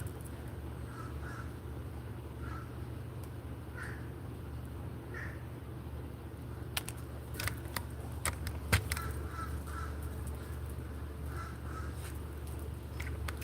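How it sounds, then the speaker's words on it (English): A crow caws outdoors in a steady run of short, scattered calls, moderately faint over a constant low background hum, with a few sharp clicks partway through. "He's still cawing and cawing away."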